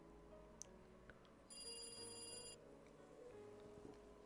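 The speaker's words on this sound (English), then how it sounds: "The phone on the desk rang," A desk telephone in the visual novel game Higurashi: When They Cry rings with a bright electronic trill lasting about a second, over quiet ambient game music and faint clicks.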